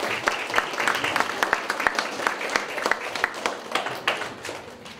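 An audience at a Kaohsiung school character-education award ceremony claps to welcome the mayor, a lively, fairly rhythmic burst of many hands that holds steady, then eases slightly toward the end.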